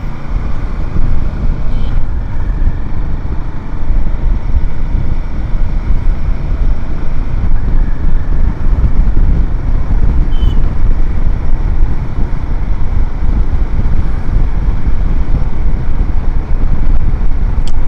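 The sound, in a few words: Royal Enfield Himalayan 450 motorcycle riding at speed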